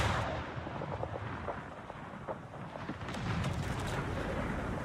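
A ship blowing up in a World of Warships naval battle, heard as a sustained, loud rumbling roar of explosive booms and crackling blasts rolling on for several seconds with no talk over it.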